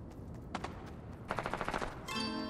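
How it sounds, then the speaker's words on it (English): Fortnite gunfire from players fighting nearby, quick bursts of rapid shots with a run of evenly spaced rattling fire, moderately loud and without talk. "It sounds like they're fighting."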